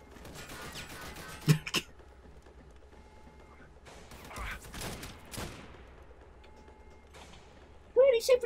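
Bursts of gunfire in the co-op shooter Army of Two, one sharp volley near the start, a denser cluster in the middle and another burst at the end, with people talking over the action.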